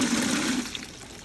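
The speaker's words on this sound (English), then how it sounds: "let's see if it can flush a Lego" A homemade 5-gallon bucket toilet flushes in a brief rush of water that fades quickly into a trickle, close and clear.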